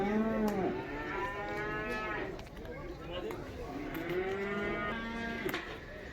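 Cattle at a livestock bazaar moo repeatedly, several drawn-out lowing calls from more than one animal, fairly close amid steady crowd noise, with people talking in the background.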